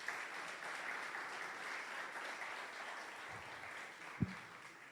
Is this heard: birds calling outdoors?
no